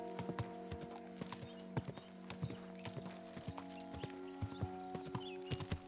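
Horse hooves clip-clop at a steady walking rhythm in the video game Kingdom Come: Deliverance 2, a series of crisp, moderately close knocks over soft ambient music and birdsong.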